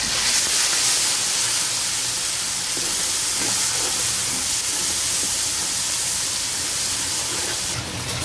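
Ginger-garlic paste, green chili paste, red pepper, salt and garam masala roast in a hot pan for chana pulao, giving a loud, steady sizzling hiss that stays constant throughout.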